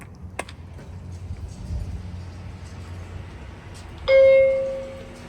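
A chime in a TKE EOX traction elevator at a parking garage in Raleigh, North Carolina, ringing a single clear, sustained tone that decays slowly, near and loud, above a quiet background hum.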